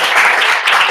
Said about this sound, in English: give applause for John.